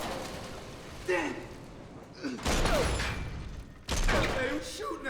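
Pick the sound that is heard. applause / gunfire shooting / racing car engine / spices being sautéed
gunfire shooting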